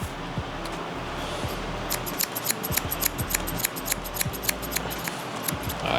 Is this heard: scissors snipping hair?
yes